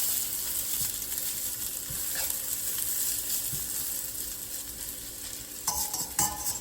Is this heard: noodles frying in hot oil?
yes